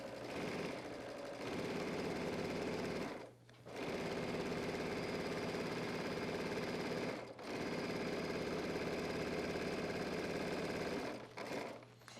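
A sewing machine stitches a men's dress shirt in three long, steady runs of rapid mechanical chatter. Each run is separated by a brief pause, and the sound is close and clear with no talking.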